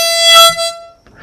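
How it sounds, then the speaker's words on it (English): Harmonica sounding a single bright blown note on hole 6, loud and close, held under a second with a brief faint follow-up at the end. "So what we're going to play is 6 blow once and then play it twice more for that pulse sensation."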